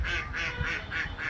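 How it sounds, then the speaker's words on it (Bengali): Ducks quack in a courtyard farmyard in Savar where goats and sheep roam together, giving about five rapid, nasal calls in a steady rhythm, close and fairly loud, without speech. "আপনার হাঁস"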